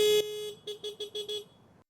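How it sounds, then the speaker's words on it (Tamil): Horn of a 2025 Honda Activa 125 scooter, one sustained honk followed by a quick series of five short beeps, close and clear with no talk. "ஸோ ஹார்ன் எப்படி இருக்குன்னு பார்த்துடலாம்."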